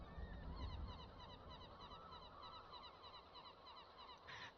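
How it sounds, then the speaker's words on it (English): Seagulls call repeatedly in a modded video game, short high cries in steady succession over a dense ambient bed of wind and surf-like noise, with no talk. "And the correct sound for seagulls."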